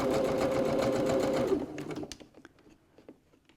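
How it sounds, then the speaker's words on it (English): A sewing machine stitches through layered wallet material in a steady, dense run for about a second and a half, then stops, leaving quiet handling clicks and taps. "So all of those layers are getting stitched together. You can hear it."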